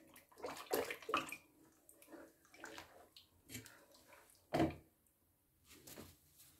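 A spoon stirs yogurt into milk, making soft, irregular swishing and sloshing liquid sounds in short bursts with quiet pauses between them, fairly close and gentle.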